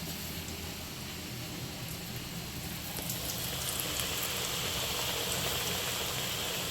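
Pitha cakes frying in oil make a steady, fairly quiet hissing sizzle that swells slightly toward the end.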